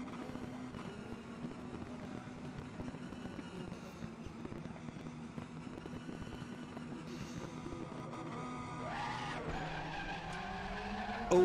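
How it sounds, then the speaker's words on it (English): Race cars in RaceRoom skid continuously without traction control, a steady drone of tire scrub and engine noise running throughout, swelling louder near the end. "All skidding, no traction control, losing places for the fun of it."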